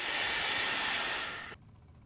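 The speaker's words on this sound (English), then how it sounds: "Opportunity to vacuum the top of the background scenery there." A vacuum cleaner hisses with a broad, steady rush while cleaning the top of background scenery on an HO scale model railroad, then cuts off abruptly, leaving quiet room tone, with no talking.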